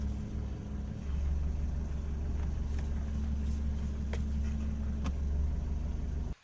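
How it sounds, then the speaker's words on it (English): A warmed-up 1997 Toyota RAV4 engine idling steadily at low RPM while stationary with the steering wheel being turned, a constant low hum with a few faint clicks before it cuts off at the end. "The engine is warmed up and idling at 600 RPM, and I'm turning the steering wheel while not moving."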